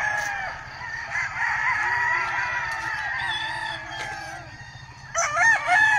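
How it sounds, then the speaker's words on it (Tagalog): Roosters crow repeatedly and chickens cluck on a farm in Tagaytay, with overlapping calls in the background and a loud, close cock-a-doodle-doo near the end. "Ayan po yung mga manok,"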